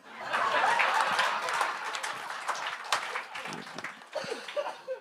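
A comedy show crowd gives a burst of applause that fades into scattered claps and a few chuckles.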